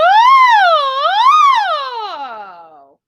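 A singer warms up in the upper range with a vocal siren: a clear, loud human voice imitates a siren, sliding smoothly up and down twice and then gliding downward as it fades out.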